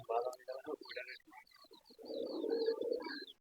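Pigeons cooing in low, soft bursts, with a few higher chirps, fairly close by and filling most of the short stretch.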